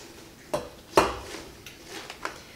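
Collard greens dumped into a pot, a couple of soft thuds and clatters against the pot followed by lighter rustling knocks, close and fairly quiet.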